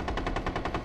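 Rapid automatic gunfire from Rainbow Six Siege rattles out as one loud, even burst of about eight shots in under a second, close and alone with no talk.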